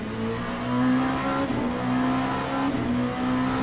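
A Ferrari race car engine in the Le Mans Ultimate racing game drones steadily at a sustained pitch with slight dips and rises, heard close and continuous without talk.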